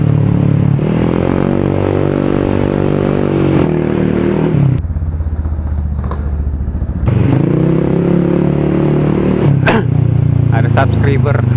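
A 2015 Yamaha X Ride automatic scooter, modified for trail riding, drones along at a steady engine note with a brief drop and surge of revving in the middle, while a rider talks over the ride.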